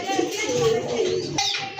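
A pair of native Bangladeshi gola pigeons coo in a pigeon market, a short run of soft throaty calls close by, with faint voices in the background.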